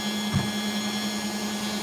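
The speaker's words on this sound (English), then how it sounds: "We'll do some sanding before the live stream ends." A power tool sanding opal gives a steady motor drone with a constant hum at moderate loudness, running unbroken for about two seconds with no talking.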